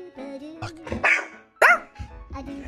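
A dog barks in short bursts close by, with a few sharp yips and low growly sounds between them, over faint outdoor background noise.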